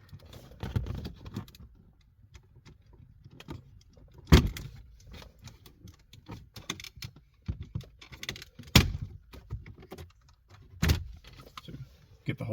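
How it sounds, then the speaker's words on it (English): Plastic dashboard trim on a 2005–2007 Jeep Grand Cherokee is pried and unclipped, producing scattered clicks, rustles and several sharp snaps at close range with no talk. "There's no screws holding these dashboards in. You just simply unclip it all."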